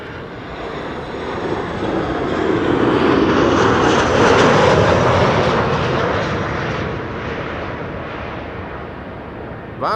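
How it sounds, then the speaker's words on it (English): A Tarom airliner arrives on runway 06, the Kaagbaan at Amsterdam Schiphol, its engine roar swelling loud and broad as it passes close overhead, then holding steady and slowly easing off. "Tarom arriving from Bucharest next."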